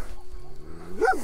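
Shepherd dogs bark at passing cyclists, a short loud bark with a yelp rising near the end over quieter background rumble.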